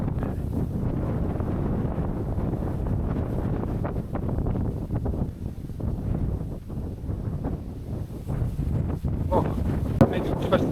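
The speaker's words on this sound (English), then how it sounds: "It's so windy, I don't know if that's gonna be super loud on the camera" Steady wind buffeting the microphone at a hidden cove in Zambales, Philippines, a low rumbling roar that persists throughout with slight gusty swells and no clear talk.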